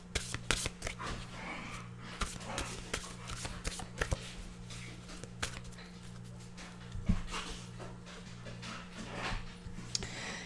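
A deck of wisdom cards is shuffled and handled close by in a quiet room, giving steady soft riffling and flicking for about ten seconds, with an animal panting faintly in the background.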